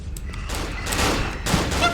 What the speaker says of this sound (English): Who is shooting? Since when do they have guns?